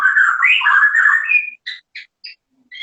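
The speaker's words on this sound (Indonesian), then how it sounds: "suara burung lu nih" A bird calls nearby: a long warbling, whistled phrase followed by several short, sharp chirps separated by brief silences.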